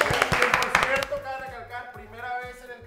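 A studio audience on a karaoke game show gives guests a short burst of brisk clapping, which quickly fades as a voice starts talking.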